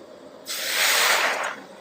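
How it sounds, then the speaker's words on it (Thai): A sudden loud sizzle as water is poured into a hot pan over high heat, hissing strongly for about a second before fading. "เราเร่งไฟเลยนะคะ แล้วเราก็เทน้ำลงไป"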